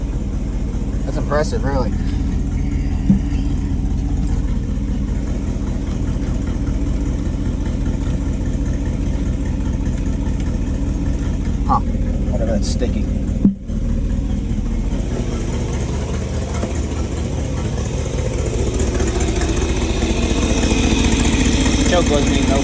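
A 1960 Ford Thunderbird's engine idles steadily and evenly for the whole stretch after an engine change, a continuous low rumble with people talking over it.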